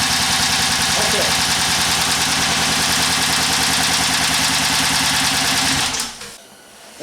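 Chrysler 300 engine idling with a misfire, a loud, close, uneven rhythmic chugging that runs steadily before cutting off near the end.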